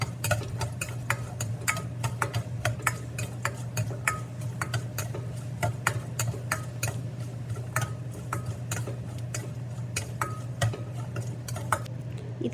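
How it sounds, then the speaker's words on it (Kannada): Mustard seeds, cumin and peanuts fry in hot oil in a pan, a steady busy crackle of rapid pops and ticks over a low hum, continuing evenly for several seconds without speech. "ಸಾಸಿವೆ, ಜೀರಿಗೆ, ಶೇಂಗಾಕಾಳೆಲ್ಲ ಸ್ವಲ್ಪ ಫ್ರೈ ಆಗೋ ಮಟ್ಟ ಫ್ರೈ ಮಾಡಿ"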